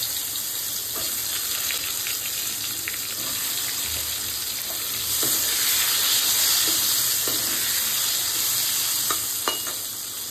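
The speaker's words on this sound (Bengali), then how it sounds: "এবার কড়াইয়ে ওই তেলেই আমি বেগুনগুলিকে একটু ভেজে নেব।" Aubergine pieces fry in oil in a wok, giving a steady, close sizzle with faint scraping and stirring sounds and no voices.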